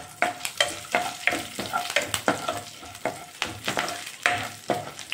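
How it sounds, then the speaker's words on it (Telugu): Tempering spices sizzle in hot oil for a curry, with a steady crackling hiss broken by repeated sharp stirring scrapes in an even rhythm, close and fairly loud, with no talk. "ఆయిల్ హీటెక్కిన తర్వాత మనం ముందుగా వేసుకున్న తాలింపులు వేసుకున్నాం"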